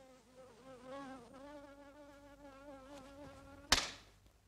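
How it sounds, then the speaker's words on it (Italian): A mosquito whines steadily and close by with a wavering pitch, alone and without talk, until a sharp slap-like knock near the end. "Una zanzara."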